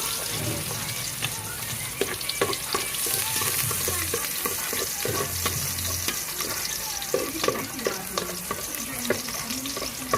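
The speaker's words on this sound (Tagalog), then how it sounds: "kailangan medyo tostado ng konti yung bawang natin" Garlic frying in a little oil for chicken tinola gives a loud, steady sizzle and crackle close by, with occasional clicks of a utensil stirring in the pan.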